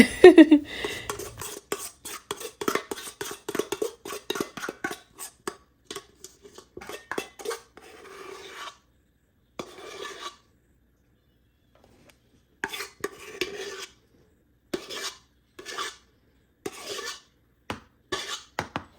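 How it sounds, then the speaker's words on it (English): A utensil scrapes banana pudding ice cream filling out of a bowl in short, repeated bursts of scraping and clinking, close up, separated by brief pauses. "Y'all see me scraping the heck out of this bowl because I wanted every little bit to get out of there"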